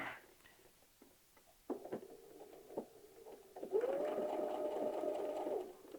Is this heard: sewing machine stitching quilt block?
yes